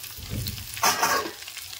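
Shredded cabbage tipped into a pan of lightly fried eggplant for a prawn and cabbage dish, with a brief rush of sizzling as it lands, then soft frying and stirring, close and fairly quiet.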